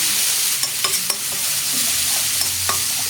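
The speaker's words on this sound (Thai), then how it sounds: "ผัดผัดทุกอย่างให้เข้ากัน เติมน้ำเปล่าเล็กน้อย แล้วก็ผัดต่อค่ะ" Shrimp paste and palm sugar stir-frying in a pan for a spicy fried catfish curry, a continuous sizzle with several sharp scrapes of a spatula, close and loud, no voices.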